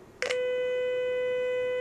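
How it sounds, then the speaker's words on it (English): A signal generator drives a loudspeaker with a steady, loud sine-wave tone that starts abruptly with a short burst and then holds an unchanging pitch, slightly buzzy with overtones, with no voices. "if I connect it to the speaker, we can hear that sine wave."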